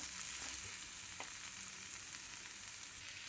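Potatoes fry in a pan with a steady, close sizzle and hiss that runs on without a break and holds an even, fairly quiet level.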